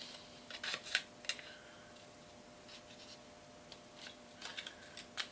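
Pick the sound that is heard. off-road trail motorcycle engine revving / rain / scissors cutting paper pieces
scissors cutting paper pieces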